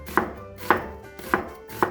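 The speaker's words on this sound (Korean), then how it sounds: "그 다음 양파 반 개. 이것도 동일하게 얇게 썰어주세요." Half an onion being thinly sliced with a knife on a cutting board: four crisp, evenly spaced chops, close and clear, with no talking.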